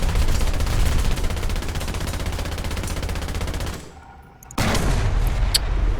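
Rapid, sustained tank machine-gun fire in War Thunder realistic battles from a German VK 3002 (M), a dense continuous burst that cuts out briefly near the end before resuming loudly.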